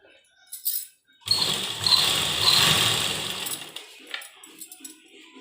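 A sewing machine stitches the back design of a kurta, running steadily for about three seconds after a few faint handling noises, then slowing into scattered clicks.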